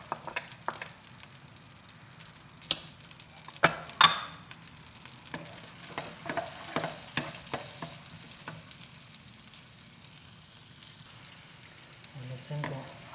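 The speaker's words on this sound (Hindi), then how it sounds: "लहसुन को हल्का ब्राउन करेंगे।" Ginger and garlic fry in butter with a little oil for chicken makhani, a soft steady sizzle with occasional stirring scrapes and clinks.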